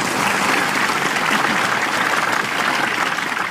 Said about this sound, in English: you don't have to always clap like this